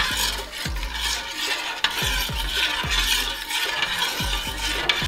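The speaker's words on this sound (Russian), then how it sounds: "Теперь хорошенечко все это перемешиваем." Gelatin-thickened broth for jellied fish being stirred in a pot, with regular scraping strokes of a spoon roughly every half second against a steady background hiss, close and fairly loud.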